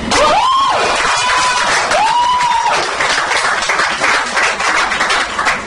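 An audience at a Toastmasters installation ceremony claps loudly and continuously, with two rising whistles near the start over the dense applause.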